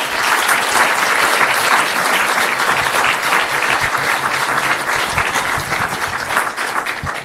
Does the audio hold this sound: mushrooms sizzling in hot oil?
no